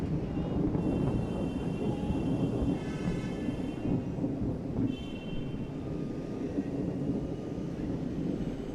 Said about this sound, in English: Loud thunder here, but still no signs of rain.